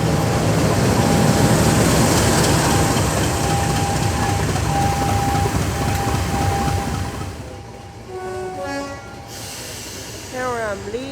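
Class 50 diesel locomotive 50015 Valiant pulling away from Crowcombe Heathfield on the West Somerset Railway at a summer diesel festival, a loud steady engine roar with a sustained tone that fades, followed by brief voices nearby.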